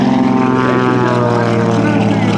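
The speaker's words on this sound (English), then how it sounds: "the throttle control of the 500 horsepower Pratt & Whitney engine" Aerobatic airplane with a 500 hp Pratt & Whitney engine at an airshow, a loud, close, steady propeller drone and engine roar.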